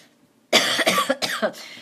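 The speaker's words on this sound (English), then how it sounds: "I'm going to apologize ahead of time if I need to cough" A burst of several close, harsh coughs in quick succession after a moment of quiet, loud and rough with short gaps between them.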